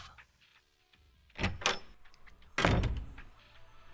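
A large, heavy door eases open in two movements, each a loud, close creaking thud with a rumbling tail, separated by a short pause and quiet room noise.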